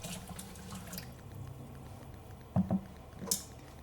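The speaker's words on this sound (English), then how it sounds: "we're going to put in the bikkuri mizu, the shock water" Cold shock water poured into a pot of boiling red beans while making tsubu-an: a soft splashing patter and bubbling, followed by a few brief sharper splashes near the end, with no talking.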